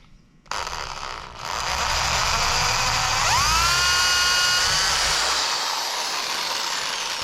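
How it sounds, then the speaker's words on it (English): A power drill running a left-handed drill bit into a flange: a sudden start, then a sustained loud whine that rises in pitch as it spins up and holds steady, close by with no talk. "We'll try a left-handed drill bit."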